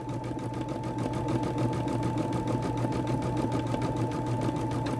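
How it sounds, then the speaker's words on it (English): Sewing machine stitching a dog bandana, a steady rapid needle rhythm running continuously at close range with a constant motor hum and no talking. "So you can see the needle stitching, right?"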